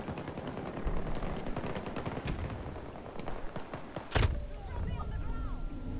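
Rapid automatic gunfire and loud shots ring out in a Battlefield 2042 match, bursts under players' voices, with one sharp, close blast near the end.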